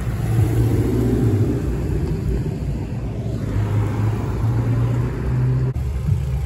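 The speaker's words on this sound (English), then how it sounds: "We got the SRT rolling up." Low, steady engine rumble from an SRT car rolling up at a European cars and coffee meet in 2023, continuous and fairly close with a brief dip near the end.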